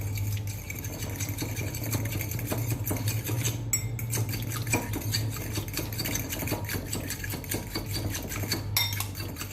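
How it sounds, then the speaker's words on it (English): A fork or whisk beats egg in a bowl, tapping and clinking rapidly against the sides in a busy, continuous rhythm with a low hum underneath, close and moderately loud. "It's exciting watching egg being mixed, isn't it?"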